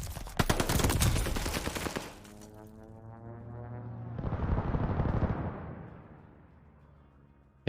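Gunfire in a Valorant esports match: a fast burst of rapid automatic shots for about two seconds, then a pause with a ringing tone and a second, softer stretch of firing and impacts that trails off.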